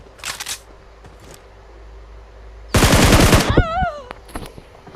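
Gunfire in a video game, a short, loud burst of rapid shots near the middle with a few fainter shots and clicks before and after, and a brief whine as it fades.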